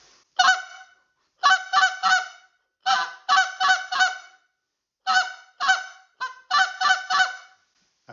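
A goose call blown for late-season goose hunting sounds in short bursts of two to four sharp honks, loud and close, separated by brief pauses, with no other sounds around it.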